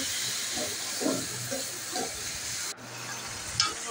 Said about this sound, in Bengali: দেখতেই পাচ্ছেন আমি ভালো করে কষাচ্ছি